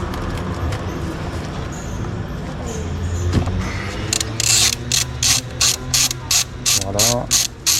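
Ratchet wrench with a 13 mm socket loosening a car battery terminal on a Dacia Sandero, a close, loud series of rhythmic clicking bursts in the latter half, following quieter handling noise.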